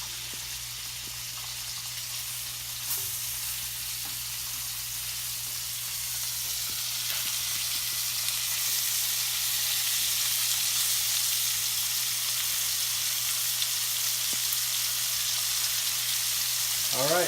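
Blue cheese slider patties sizzle in a pan with a loud, steady hiss of frying that builds slightly over time, alone and close, with no talking.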